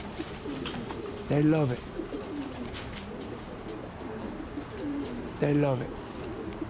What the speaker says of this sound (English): This is a pigeon tree.